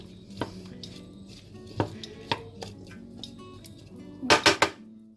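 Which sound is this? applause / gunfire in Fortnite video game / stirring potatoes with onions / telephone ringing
stirring potatoes with onions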